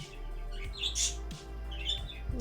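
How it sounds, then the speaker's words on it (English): A small bird lets out a few short, high chirps, two brief calls about a second apart over a low steady hum. "Little bird."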